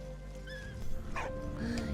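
A dog in the World War I video game Valiant Hearts gives a few short yips and whimpering barks over quiet game music and ambience.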